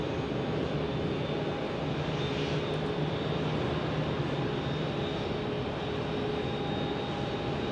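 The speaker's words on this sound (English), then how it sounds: "this A321 is in from DFW" Airbus A321 airliner arriving at Phoenix Sky Harbor from DFW, a steady, fairly loud broadband jet roar with faint engine whine tones holding throughout, no voices.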